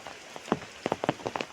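Light rain falls on a paddy field during rice sowing, the drops pattering as scattered soft taps that come close together in a steady, gentle patter.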